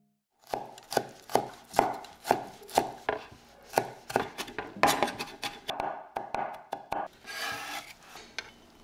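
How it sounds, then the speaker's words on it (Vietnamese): A knife minces about 20g of garlic on a cutting board, a steady run of sharp close taps that blur into faster, scraping strokes near the end. "Băm nhỏ thêm một ít tỏi khoảng 20g"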